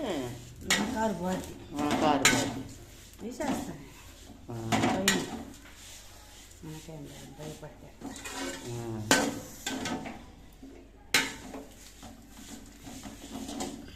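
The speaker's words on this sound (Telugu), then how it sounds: "మెత్తదనం వల్ల చింతాకు కూడా ఇలా వేయించుకోవాలండి" Tamarind leaves stir-fried in a pan for a spiced leaf powder, heard as repeated scraping and clattering of a utensil against the pan in an uneven rhythm at a moderate level, with no talk.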